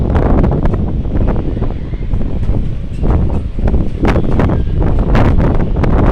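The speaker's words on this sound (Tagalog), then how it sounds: "Sobrang hangin." Strong wind buffets the microphone high on a 48th-floor high-rise, a loud, steady roar and rumble with gusty surges that continues throughout.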